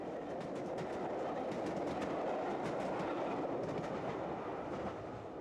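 Merchant Navy Pacific steam locomotive Clan Line hauling a main-line train of Venice Simplon Orient Express stock, heard as a steady, loud rolling roar with a rhythmic clickety-clack of wheels over rail joints throughout, no speech.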